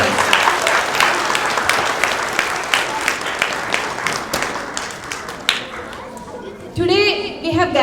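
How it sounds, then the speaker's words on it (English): Families at a children's annual cultural program event applaud children, teachers and parents, strong clapping that fades toward the end as a voice begins speaking over the hall. "Let's give a big round of applause to all our children, to all our teachers, and to all our parents."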